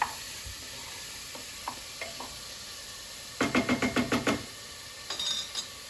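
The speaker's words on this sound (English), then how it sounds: "Give that a stir." Food frying in olive oil and being stirred, with a faint steady sizzle broken by a rapid run of about seven scraping strokes close by, then a few lighter scrapes after.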